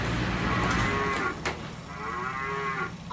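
Baby toy playing a cow moo, two drawn-out electronic lowing calls separated by a brief knock, close and clear with no talking.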